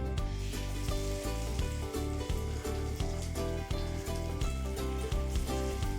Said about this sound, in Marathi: थोडंसं डार्क पडे पडेपर्यंत आपण त्याला फ्राय करून घेणार आहेत